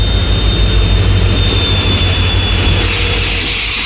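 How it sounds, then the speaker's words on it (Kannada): A late passenger train arrives at a railway station on the way to Badami, Karnataka, its loud steady rumble of rolling wheels and carriages close by, with a thin high squeal above and no talk. "ಈ ಟ್ರೈನು ಬಂದ್ಬಿಡ್ತು"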